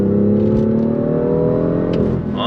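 A 2018 BMW M2 with a dual-clutch gearbox accelerates under throttle, its engine note rising steadily in a loud, continuous drone heard from close up, with no talk over it.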